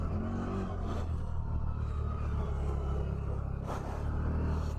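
A CFMOTO ZForce 1000 side-by-side with a 1000cc engine running at about half throttle, a steady loud droning rumble with slight revving surges throughout and no voices.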